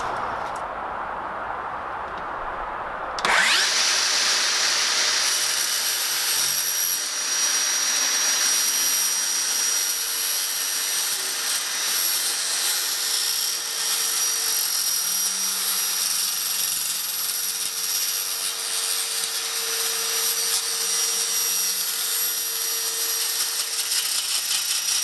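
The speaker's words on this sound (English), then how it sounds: "So I'm going to use my circular saw to make this cut. Should cut the aluminum fine" Circular saw cutting aluminum sheet along a straight-edge board, starting abruptly after a quiet moment and then running as a loud, steady, high-pitched whine and grinding scream held continuously for over twenty seconds.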